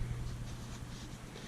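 Mechanical pencil of a Fisher Space Pen quad-function multipen scratching across paper, a soft, steady graphite scraping that runs continuously at close range with no talking.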